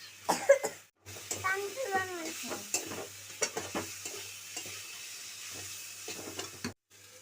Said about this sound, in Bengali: আমি এবার আলুগুলো দিয়ে দিচ্ছি ভাজা আলুগুলো দিয়ে দিচ্ছি